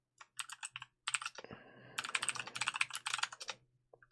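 Fast computer keyboard typing comes in clustered bursts of crisp key clicks, close and clear, separated by short pauses and a brief thump.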